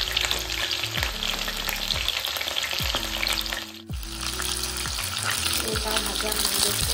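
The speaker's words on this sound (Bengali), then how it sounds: "এবার যখন দেখুন লাল লাল করে ভাজা হয়ে গেছে তুলে নিই।" Chicken pieces for chilli chicken fry in hot oil with a steady, close, broadband sizzle, joined by repeated low clinks and scrapes of stirring throughout, with a brief dip near the middle.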